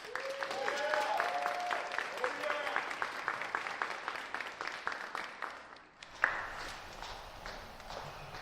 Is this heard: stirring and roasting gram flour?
no